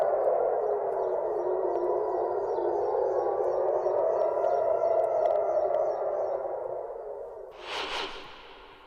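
An air raid siren in Israel during wartime wails with a long, rising and falling tone that fades toward the end, followed by a brief whoosh.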